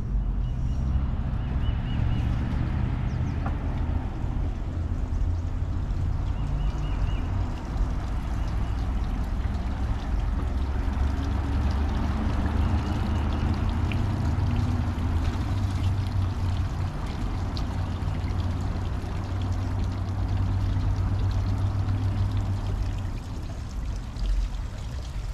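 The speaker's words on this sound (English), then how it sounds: "The old water wheel could use some oil." An old water wheel turns with flowing water in a garden setting, giving a steady low rushing and churning that holds evenly throughout, with faint trickling on top and no talk.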